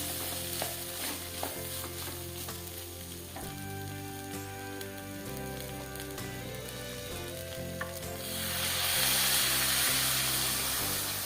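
Steady sizzling of an Assamese goat-tripe dish frying in a pan, close and continuous with occasional stirring scrapes, swelling into a louder hiss near the end.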